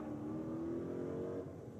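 Drag racing car at Sydney Dragway, a manual Holden VK, accelerating hard down the strip with its engine tone climbing steadily; loud, continuous engine roar that eases off near the end, with no distinct shift breaks visible.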